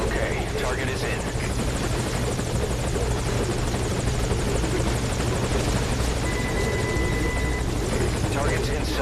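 In the Metal Gear Solid Ground Zeroes video game, a hovering helicopter keeps up a dense, even rotor roar close by for the whole stretch, with some speech mixed in over it.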